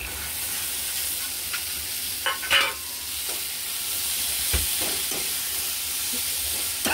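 Moth beans (matki) dropped into hot oil and stirred, a steady close sizzle with scraping spoon strokes and a few sharper clatters, no talk.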